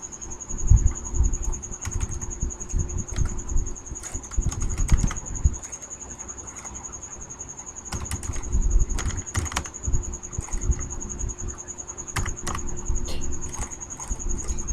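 Computer keyboard keys clatter in irregular bursts of quick taps while customer names are typed into an Excel sheet, close and clear, with a steady high electronic whine in the background.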